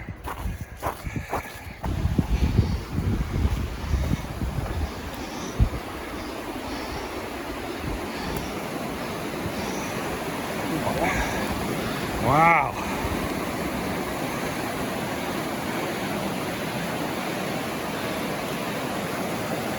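The loud, rushing East Branch of the Pemigewasset river, a steady broadband roar of water heard close, with footsteps, wind buffeting and a brief spoken exclamation.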